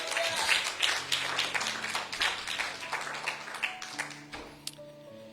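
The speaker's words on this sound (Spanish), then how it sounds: "Le da un aplauso al Espíritu Santo en esta mañana." A church congregation gives a round of applause during a morning service, steady clapping from many hands that is fairly distant and moderate in level, slowly thinning toward the end.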